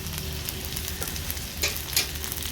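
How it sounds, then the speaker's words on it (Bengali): Tomato and slit green chillies are stirred into potatoes and onions frying in oil, giving a steady close sizzle with a few louder scraping stirs of the spoon. "এবার এতে আমি দিয়ে দেব টমেটো আর চেরা কাঁচা লঙ্কা"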